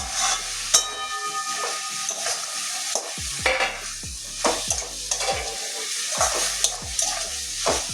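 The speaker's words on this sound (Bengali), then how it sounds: "এবারে ভেজে রাখা ভেন্ডিগুলো আবারও দিয়ে দিচ্ছি, মশলার সঙ্গে কষিয়ে নিতে হবে।" Fried okra being stirred with spices in an oily pan for a masoor dal dish, steady sizzling and frying hiss broken by repeated scraping strokes of a spatula against the pan, close and distinct.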